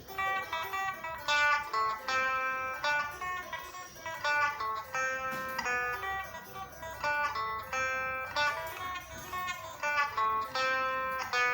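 A guitar picks out a quick melodic run of single notes, repeated a few times at moderate volume with no voices.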